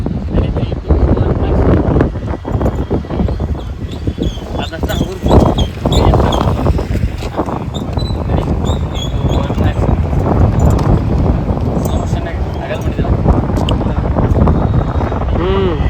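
Strong wind buffets the microphone in loud, continuous gusts while people talk underneath, outdoors at a clinic opening ceremony in Kittur.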